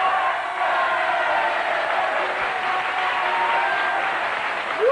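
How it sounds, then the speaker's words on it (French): A studio audience at the 1993 French television game show Le Millionnaire breaks into loud, steady applause as the host arrives on set, with a faint cheer or whoop rising near the end. "Tonnerre d'applaudissements pour saluer l'arrivée sur le plateau de Philippe Risoli."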